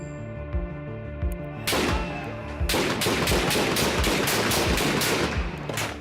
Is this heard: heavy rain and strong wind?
no